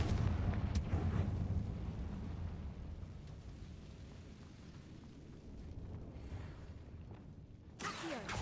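A Confringo spell explosion in Hogwarts Legacy, a heavy rumbling blast whose low roar fades slowly over several seconds, followed near the end by a sharp burst.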